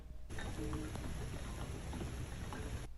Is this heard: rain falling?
yes